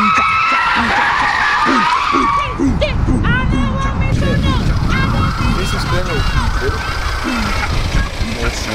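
A new car driven hard on a closed track in Bosnia, its tyres squealing and skidding over a loud, steady engine roar that continues throughout.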